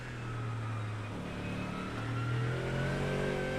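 Cadillac race car engine in a racing video game, revving steadily with rising and falling pitch through wet-track driving, loud and continuous with no talk over it.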